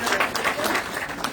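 Crowd applauding as a name is announced at a political party headquarters joining event, dense, loud, continuous clapping throughout.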